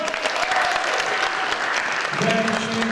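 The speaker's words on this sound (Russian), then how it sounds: "Ваши бурные аплодисменты" Crowd applause at the closing ceremony of a film festival in a Yakutia history park, continuous dense clapping throughout, with a voice briefly heard near the end.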